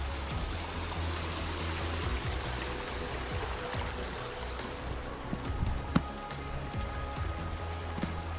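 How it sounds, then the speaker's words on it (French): The Cascade de l'Ouesque waterfall near Gourette runs with a low flow, giving a steady broadband rush of falling water close by, with a faint knock partway through. "La cascade de l'Ouesque."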